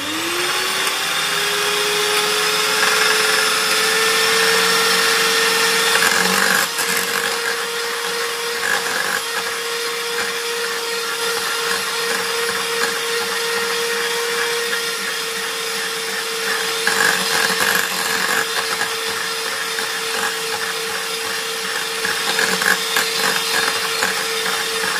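An electric hand mixer beats cream at high speed toward stiff peaks, giving off a loud, unbroken motor whine with a steady pitch and a faint whirring rattle that runs throughout.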